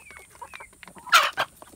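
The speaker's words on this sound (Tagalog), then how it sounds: "Malaki ito siya nga manok guys." Large chicken clucking close by in short soft notes, followed by a louder squawking burst, with quiet background rustle.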